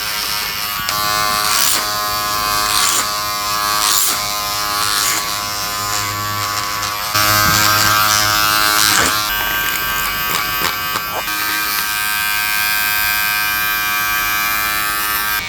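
Electric hair clippers buzz steadily and loudly up close while cutting a taper and exposing the hairline, with the pitch of the hum shifting as the blades press into hair and lift away.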